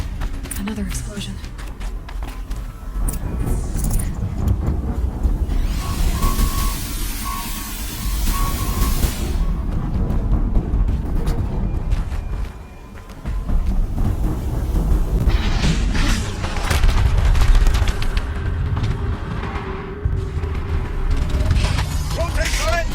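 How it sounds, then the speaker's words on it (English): Heavy rumbling explosions from the Horizon Zero Dawn video game boom through a dense, continuous roar of battle noise, with a brief lull midway, while a voice talks over the din. "Another explosion."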